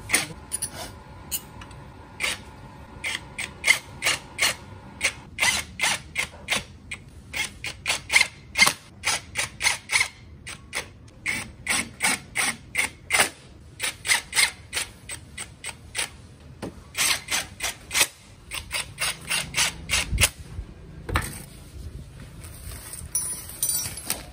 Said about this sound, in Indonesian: Oke, kita kencengin baut bak CVT.